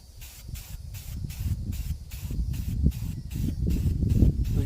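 Spray paint hisses onto a Honda CR-V in steady pulsed bursts, close and fairly loud, with short pauses between passes as the coat goes on.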